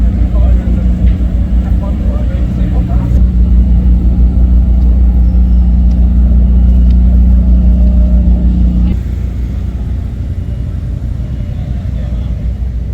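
Hot lap cars circling the Monza circuit, a loud, sustained engine rumble and roar that holds strongly for several seconds before easing to a lower, more distant drone, with a voice talking over it.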